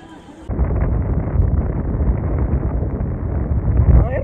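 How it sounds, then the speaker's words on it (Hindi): Strong wind buffets the microphone outdoors near Nainital, a loud steady low rumble that starts abruptly and continues, with voices heard faintly in the background. "हवा चल रही है सामने"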